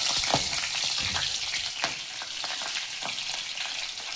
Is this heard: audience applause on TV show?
no